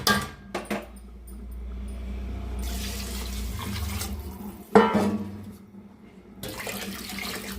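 Water draining off washed rice comes as a running, splashing pour near at hand, starting and stopping in a few bursts with a sharp clatter partway through and no talk over it.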